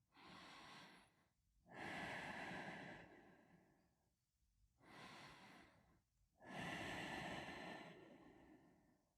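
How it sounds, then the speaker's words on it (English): Slow, deep breathing during a hatha yoga practice, with long audible inhales and exhales alternating in an even rhythm, close and soft, with no talking. "Take 3 deep breaths here."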